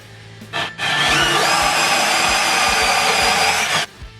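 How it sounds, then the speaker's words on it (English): A band saw cuts through a large metal plate for a DIY five-axis CNC machine build in a small room. It is a loud, steady, continuous buzzing whine lasting about three seconds after a brief start-up burst, then stops. "First, cut the large plate with a band saw."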